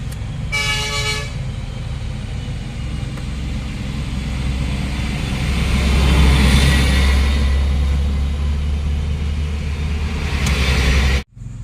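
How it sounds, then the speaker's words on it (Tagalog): Heavy trucks grind uphill on a mountain road beside a steep drop, a loud continuous low rumble swelling as they pass close by, with a horn toot at the start. "pinara tayo ng motor kasi mayroong paakyat na dalawang dump truck"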